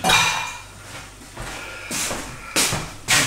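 Metal pots and pans clatter in a home kitchen during breakfast preparation, with a few loud, close clanks and scrapes spaced over a few seconds and quieter handling between them.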